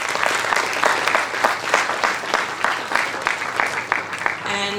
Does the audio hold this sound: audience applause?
yes